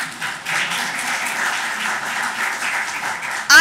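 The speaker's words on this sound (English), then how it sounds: "Feel free to applaud." An audience applauds steadily for a few seconds at a legal talk, the clapping even and moderately loud with no voices over it.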